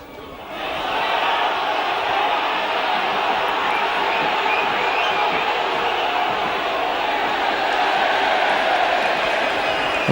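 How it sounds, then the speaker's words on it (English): A rugby league crowd at a Warrington versus Leeds match roars and shouts in a dense, sustained wall of noise that swells quickly and holds steady, with a commentator's voice faintly underneath. "And the crowd shouting there"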